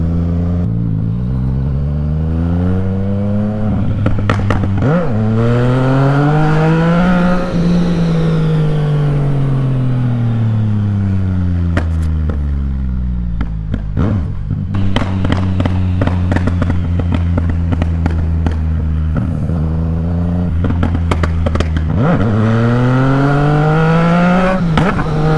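A remapped Yamaha MT-09 motorcycle engine revs up and down repeatedly, loud and close, with sharp pops and crackles between the throttle blips.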